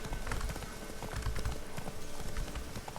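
Horse hooves clip-clop in a quick, steady rhythm as a mount is urged on in the video game The Witcher 3, the clatter close and continuous throughout.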